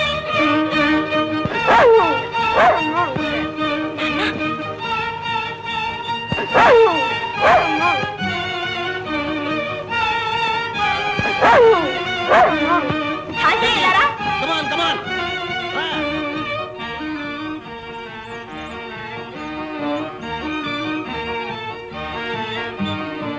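A dog barks and yips several times in bursts, sharp and fairly close, layered over orchestral film music in an old Telugu movie scene.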